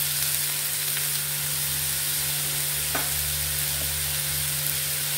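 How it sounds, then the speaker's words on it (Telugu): Onions stir-frying in a pan for a green chilli egg fry, a steady soft sizzle under a constant hum, with a few faint stirring scrapes. "ఉల్లిపాయలు బాగా ఫ్రై అవ్వాలి మనకి."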